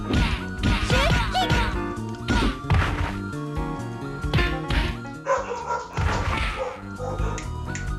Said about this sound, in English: Dogs are barking at something.